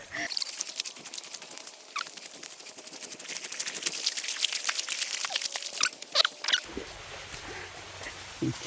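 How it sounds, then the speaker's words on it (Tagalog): Rain pattering outdoors on a vegetable garden, a dense steady crackle of small drops that continues throughout, with brief faint voices and rustling close by before it cuts to a duller, muffled patch. "Umuulan na."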